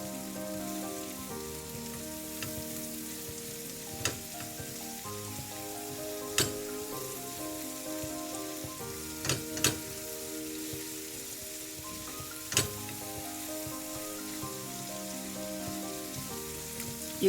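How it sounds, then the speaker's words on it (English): Food frying in a pan makes a faint, steady crackling sizzle, with occasional sharper pops and clicks over a soft tonal hum in the background. "this has to be fried really well till the raw smell goes."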